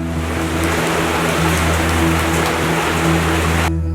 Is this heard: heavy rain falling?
yes